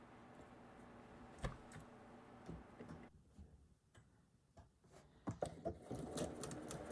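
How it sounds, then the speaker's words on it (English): Sewing machine stitching the bias edge of a quilt tree block, a quiet steady mechanical whir with rapid ticking needle strokes, pausing briefly midway before running on again, with no voices. "So here I'm sewing the bias edge"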